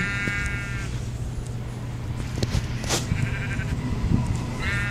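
Sheep bleating in Minecraft Pocket Edition survival mode: several short, nasal, buzzy bleats, one at the start and more near the middle and end, over a steady game background hum with scattered clicks.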